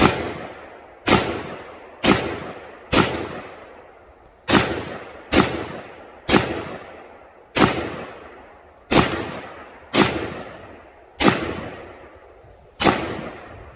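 .44 Magnum revolver shots fired at pumpkins outdoors: about a dozen loud, sharp reports spaced roughly a second apart, each with a short decaying echo.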